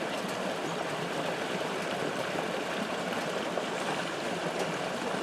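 A creek in the woods flows with a steady, full rushing and burbling, constant and fairly close, with no voices.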